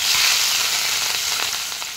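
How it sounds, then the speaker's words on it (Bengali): Rohu fish frying in hot oil in a wok, a loud, dense crackling sizzle with sharp spattering pops throughout. "এবার মাছগুলো আমি ভেজে নিচ্ছি"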